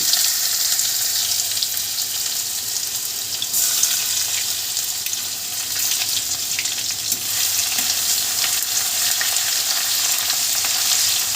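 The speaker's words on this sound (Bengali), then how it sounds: "এবার আমি এর মধ্যে একে একে সব মশলা দিয়ে দেব প্রথমে আমি দিয়ে দিচ্ছি দেখুন রসুন কুচি" Chopped garlic and spices fry in hot oil for a crab curry, giving a steady, loud sizzle and crackle that runs throughout with no talking.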